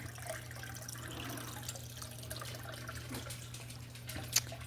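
Faint trickling and dripping of water running through a siphon tube while a fish tank is cleaned, a quiet steady flow over a low hum, with one brief splash near the end.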